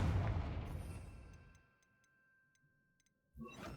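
A Confringo spell blast in the video game Hogwarts Legacy lands as a loud fiery burst that fades over about a second, followed by faint ticking effects and another sharp burst at the end.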